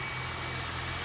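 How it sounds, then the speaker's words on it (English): A Toyota Corolla with over 481,000 miles idles steadily after a three-week no-start, giving a constant low engine hum with no voices. "Engine seems to be settling down."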